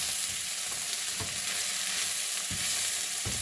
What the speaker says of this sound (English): We're gonna cook these up. Let them get a bit crispy.